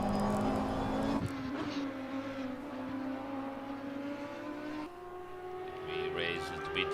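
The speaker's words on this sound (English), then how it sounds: "Amazing engine sound." Race car engines from a sim racing video game drone continuously at high pitch, with gear shifts and a sharp change partway through, sitting under light talk.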